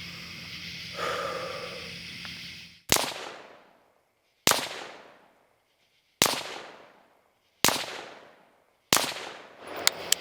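Five sharp, loud rifle shots ring out one by one at a steady pace, each with a short echoing tail. They follow a stretch of breathing and faint rustling during a night session zeroing a laser sight.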